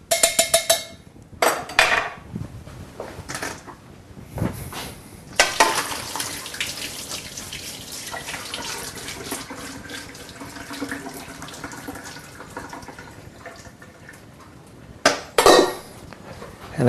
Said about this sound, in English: All I need to do now is drain off the pasta.